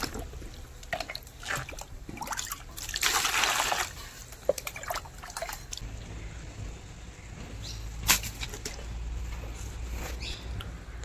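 Cement is stirred into water to make a slurry at a shed construction site, with wet trickling, sloshing and splashing, a louder rushing stretch, and a few sharp knocks along the way.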